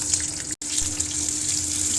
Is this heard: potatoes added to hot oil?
yes